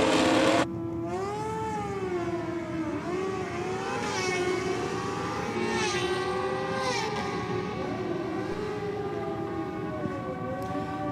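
Suzuki and Kawasaki racing motorcycles at the Gulf West Oil Nitro Champs give a loud, continuous high engine whine with rising and falling pitch swells as they run together, with no talking.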